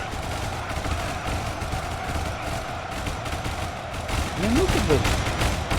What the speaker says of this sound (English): Machine guns versus mummies.